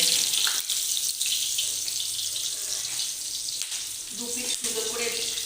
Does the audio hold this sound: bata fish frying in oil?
yes